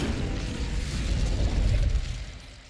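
An Incendio fire spell cast in the video game Hogwarts Legacy erupts as a dense, rumbling whoosh of flame, loud and broadband, swelling for about two seconds before fading away.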